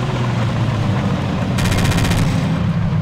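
Forgotten Hope 2 gunfire crackles as a rapid machine-gun burst with evenly spaced repeating shots from about 1.5 to 2.3 seconds, loud over a heavy low rumble of battle noise.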